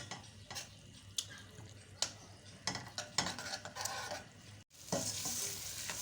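Masala frying in a karahi for Peshawari desi chicken karahi, a steady sizzle with repeated scraping stir strokes, close and fairly quiet, with a brief dropout near the end before the sizzle returns brighter.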